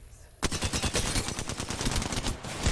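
Rapid, loud volleys of gunfire from a 30-30 rifle in a video game, a near, dense string of cracking shots starting abruptly after a brief quiet moment and continuing steadily to the end.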